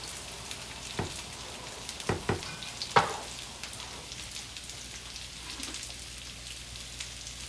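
Refried beans sizzle in a hot pan with potatoes, a steady crackling fry with a few sharper spatters and scrapes near the start, close and moderately loud with no talking.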